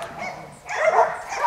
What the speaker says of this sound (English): we just wanted you to see what a beautiful puppy this merle female is